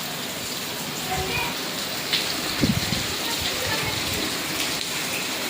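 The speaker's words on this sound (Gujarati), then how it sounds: "આજે અગિયાર વાગ્યાનો વરસાદ શરૂ થઈ ગયો છે" Heavy rain pouring outdoors in Gujarat, a dense continuous hiss of falling water with scattered splashes and a few brief knocks over it.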